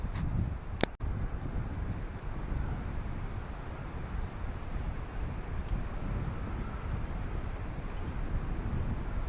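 A steady breeze blows over the microphone on a mountain backpacking trail near Spruce Knob, West Virginia, a continuous low rumbling rush that fills the whole span, with a brief sharp knock near the start.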